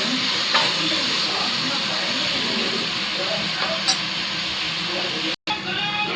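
Masala mixture with tomato, mint and ginger-garlic paste sizzles and fries steadily in a pan while being stirred for a biryani, a continuous hiss with a few soft scraping clinks and a brief dropout near the end.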